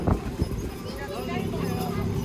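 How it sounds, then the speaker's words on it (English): Horses at a family farm clip-clop with a few hollow hoof knocks near the start, under a busy outdoor background of voices and chatter. "Look at the horses, Mary."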